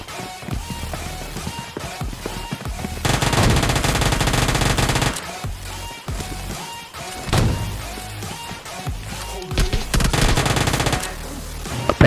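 Uzi submachine gun fire in a shooting video game, with long rapid automatic bursts broken by short pauses, loud and close, with sharp single shots and impacts between bursts.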